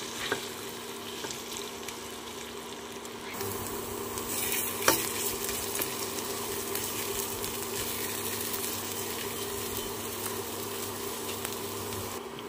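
A spoon stirs mashed potato into fried spices in a hot pan for aloo chokha, producing a continuous sizzle with scraping strokes, which grows louder and denser after a few seconds. No voices are heard.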